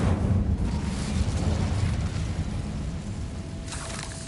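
A sustained roaring blast of the Incendio fire spell in Hogwarts Legacy, dense and loud throughout with a rumbling low body and crackling hiss, no voices over it.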